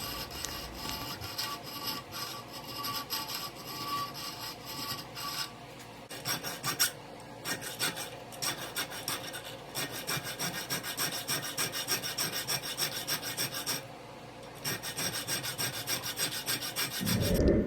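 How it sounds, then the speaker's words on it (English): A checkering file rasps across the spine of a hunting knife blade, cutting jimping in steady back-and-forth strokes, close and fairly loud, with brief pauses between runs of filing. "The file that I use to create jimping on knives is called a checkering file."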